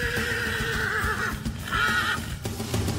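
A horse brought onto a stage at a live TV show whinnies in two loud, close bursts, a shrill neigh followed by a shorter second one, with some hoof clatter and room noise around it.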